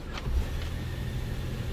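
A 2022 Ford Maverick Hybrid idles steadily right after starting, a low continuous engine and electrical hum close by with a brief rise near the start and no talking.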